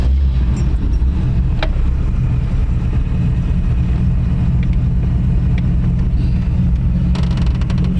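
A 1932 Ford three-window coupe with a 302 V8 idles steadily, a deep, continuous low rumble close by, with a few faint clicks over it and no talking.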